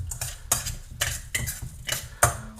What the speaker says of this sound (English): you want to just give this a little stir until all those breadcrumbs are moistened